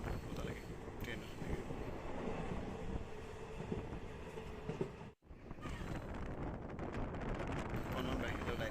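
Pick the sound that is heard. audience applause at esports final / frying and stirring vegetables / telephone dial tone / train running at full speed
train running at full speed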